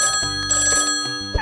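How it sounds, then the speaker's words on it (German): A smartphone ringing with a bright, electronic bell-like ringtone, steady repeating tones across the whole short stretch, close and clear with no talking over it. "Das ist das Smartphone."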